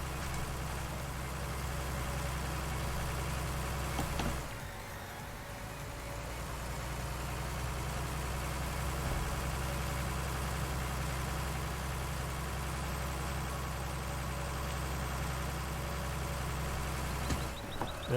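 Tractor engine idling in Farming Simulator 19, a steady low droning hum that runs unbroken for the whole stretch, with a brief dip and a click near the start and end.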